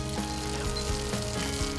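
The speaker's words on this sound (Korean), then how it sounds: "지글지글 맛있는 소리와 함께 고소한 기름향을 솔솔 풍기는 전 굽는 가게는 이맘때 더욱 분주하다고 합니다" Korean jeon pancakes frying in hot oil at a busy traditional market stall before the Chuseok holiday, a steady, dense sizzle and crackle filling the whole moment up close, with no voices.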